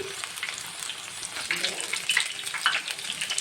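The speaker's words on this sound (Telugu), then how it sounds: "ఇలా ఆయిల్లో వేసి వేగనివ్వాలి" Soya chunk pakodas frying in oil, a moderate crackling sizzle with scattered sharp pops and bubbling close by.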